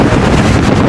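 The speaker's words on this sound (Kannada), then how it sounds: "ಗಾಳಿ ನೋಡ್ರಿ ಇಲ್ಲಿ" Strong wind buffets a microphone on the hilltop of Mullayanagiri in Chikkamagaluru, a loud, continuous roaring rush with no break.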